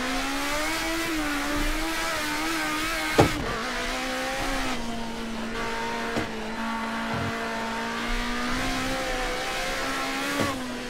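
A race car engine drones at high revs on the Bathurst circuit at speed, a steady in-car whine with slight pitch dips at gear changes and a few sharp knocks, heard continuously with no talk.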